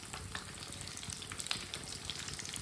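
Kebabs fry in a pan with a steady, close oil sizzle and scattered small pops throughout.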